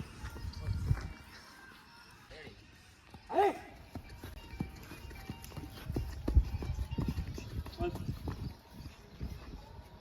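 Hooves clip-clop at a trot from a horse named Sultan during training, fairly distant and uneven, with someone talking and a brief whinny-like call partway through.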